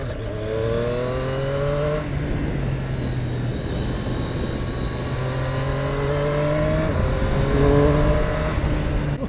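A Triumph Street Triple RS motorcycle on stock exhaust revs through the gears while riding, its engine note climbing and dropping in repeated pulls, loud and close, with wind noise.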